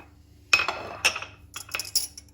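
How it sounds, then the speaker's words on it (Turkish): A metal spoon stirring food colouring into cream in a bowl for a raspberry birthday cake gives a few light clinks and scrapes, about four distinct taps over two seconds, close and quiet. "Bir karıştırayım ne kadar çıkacak rengi bir bakalım."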